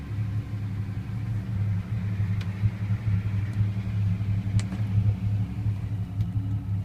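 A Humber car engine runs steadily while warming up from cold, giving a continuous low idling rumble with a few faint clicks over it and no voices.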